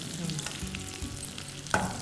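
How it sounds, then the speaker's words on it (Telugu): Ginger garlic paste sizzles and fries steadily in a hot pan, with a spoon scraping and stirring now and then, close up. "కొంచెం అల్లం వెల్లుల్లి పేస్ట్. ఓకే, కాసేపు వేయించాలి."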